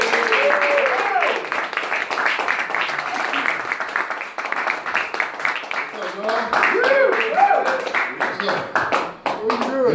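Audience clapping and applauding in a comedy club as a comedian is brought on stage at the Comic Strip, a dense sustained patter under cheering voices and talk throughout.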